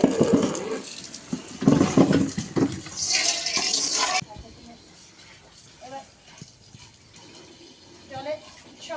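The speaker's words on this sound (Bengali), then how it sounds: "চলো চলো কলে যাই, ধুয়ে নি," Water running from a tap while guavas are washed, a steady splashing rush that is loud at first, then stops abruptly and gives way to quieter handling noises, with people talking throughout.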